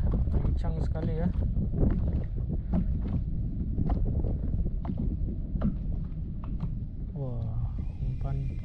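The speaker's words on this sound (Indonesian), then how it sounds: "Anginnya loh. Ini guys sudah kencang sekali ya." Strong wind at sea on a wooden fishing boat at a fish-aggregating raft spot, a constant loud roar and buffeting under people talking throughout.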